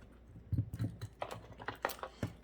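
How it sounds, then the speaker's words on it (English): Cutters snip copper wire while making spiral wrapped earrings, a short run of small close clicks and snaps, crisp and quiet with no voices. "So I'm going to cut it off in the back."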